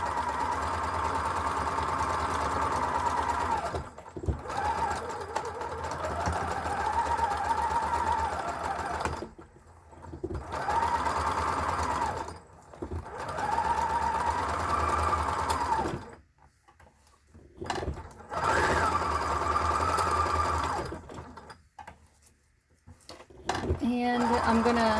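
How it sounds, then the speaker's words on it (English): A sewing machine stitches fabric for a face mask, its motor whirring close by in steady runs broken by short pauses, with a person talking throughout. "I do have that feature on my sewing machine"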